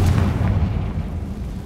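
Explosive spells go off in Hogwarts Legacy, a dense rumbling boom with a sharp burst at the start that stays loud and rolling to the end, with no talk.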